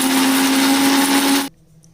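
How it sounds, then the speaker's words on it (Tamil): A mixer grinder whirs loudly at a steady high pitch while grinding a curry leaf masala, then cuts off abruptly, leaving near silence. "ஒரு மிக்ஸி ஜாரில் சேர்த்து அரைச்சிட்டு வந்துடலாம்."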